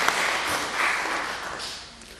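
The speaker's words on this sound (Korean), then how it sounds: "우리 박수로 하나님께 영광을 돌리시겠습니다" A church congregation claps together for a couple of seconds in a dense, steady wash of applause that fills the room, with no one speaking over it.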